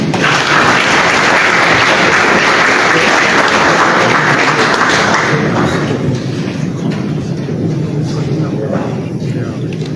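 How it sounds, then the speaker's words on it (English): An audience at an investment forum's official opening applauds loudly, dense clapping filling the room for about five seconds and then easing to lighter, scattered claps. "let's give the big hand clap"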